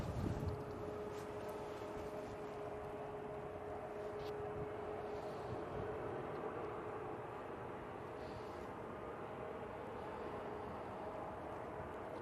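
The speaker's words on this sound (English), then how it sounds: "it is the KLM 737-800 coming in from Amsterdam" A KLM Boeing 737-800 jet arrives from Amsterdam at Manchester Airport, its engines a steady, moderately distant roar with a thin sustained whine, heard alone against breezy outdoor air.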